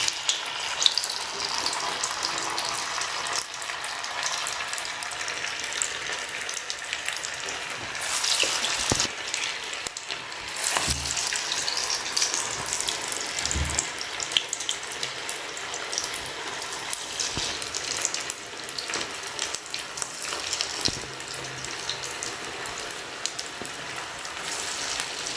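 Soya chunk meal maker vadas frying in oil in a kadai, a steady bubbling hiss of hot oil throughout with a few sharp knocks and clatters from utensils, close and without speech.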